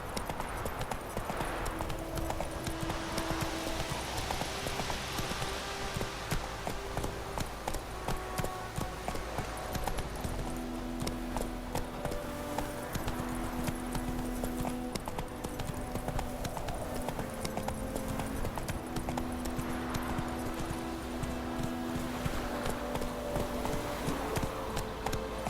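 Roach, the horse in The Witcher 3, gallops in a steady, continuous hoofbeat rhythm over about 25 seconds, with tonal game music running underneath.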